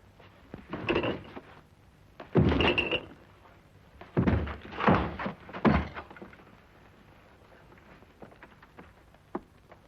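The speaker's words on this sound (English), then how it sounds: "Force the door open." Heavy thuds of a door being forced open during an old-time radio mystery drama, several loud irregular blows in quick succession followed by quieter knocks and rattles, with no speech.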